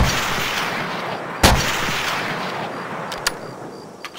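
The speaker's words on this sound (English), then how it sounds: "Because, like, this is what it sounds like in COD War 2." PTRS anti-tank rifle in Call of Duty WWII, a dense rumbling game soundscape with a sharp close shot cracking through, then a couple of lighter distant reports near the end.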